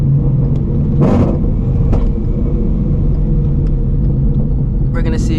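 A supercharged Shelby GT350 Mustang running E85 pulls hard, its engine a constant loud rumble through the whole stretch, with brief bursts of higher whine and road noise over it.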